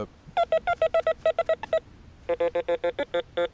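A Teknetics Patriot metal detector in delta pitch mode sounds a rapid series of short electronic beeps, two bursts of clipped tones, the second slightly lower in pitch, clear and close with no voices.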